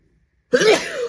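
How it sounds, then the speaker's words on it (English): A single loud, close sneeze bursts out after half a second of silence, sharp onset followed by a breathy, sustained exhalation. "I can feel a sneeze."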